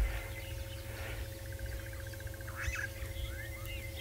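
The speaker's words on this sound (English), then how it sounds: "You can hear the birds calling from the other angles." Birds call from the trees at a dawn wildlife safari, with repeated chirps and short whistled notes at moderate distance over a steady low rumble and hum.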